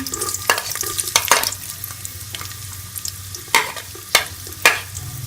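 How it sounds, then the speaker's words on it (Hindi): Onions frying in two spoons of desi ghee with bay leaf and cumin for chana dal, a loud close sizzle with repeated sharp spoon scrapes and taps against the pan. "मैंने देसी में 2 चम्मच घी के डाले और इसके अंदर मैं ये प्याज डाल दूंगी"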